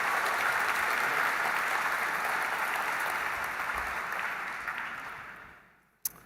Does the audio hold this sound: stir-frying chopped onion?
no